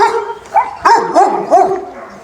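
A big dog barks in several short, loud bursts with whimpering, whiny pitch slides between them, close by and heard without speech.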